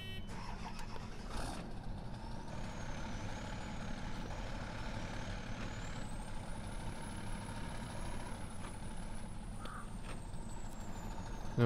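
Service truck in SnowRunner, an F-350 pickup, with a steady low engine rumble under a rising whine and occasional mechanical hisses, continuous and close throughout.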